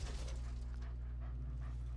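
A dog in the Marvel's Avengers video game whimpers softly over a steady game soundtrack hum, faint and plaintive, with no talking.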